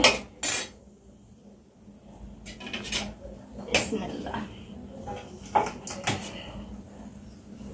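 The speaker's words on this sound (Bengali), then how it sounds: "আজকে পাতিলে ভাত রান্না করছি এজন্য বাড়তে হচ্ছে" Rice cooked in a pot is served out with metal utensils: clanks, taps and scrapes against the pot come in irregular bursts, some sharp and loud, over a quiet domestic background.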